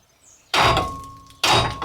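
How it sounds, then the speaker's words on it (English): A big hammer strikes the lower ball joint of a 2012 Nissan Juke AWD twice, each blow a loud, sharp metallic clang with a ringing decay, about a second apart. "I'm going to take this big hammer and just see if I can knock it loose like this."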